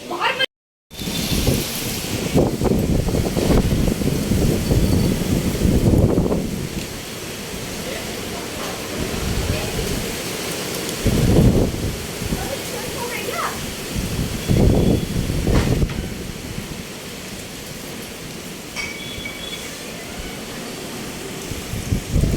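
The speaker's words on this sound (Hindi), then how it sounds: "तो अभी अब बाहर इतना तगड़ा आंधी तूफान आ गया है यहाँ" Heavy rain and gusting wind roar steadily outside in a strong windstorm that is blowing trees about, with surges of louder rushing noise; a voice talks intermittently in Hindi over the storm.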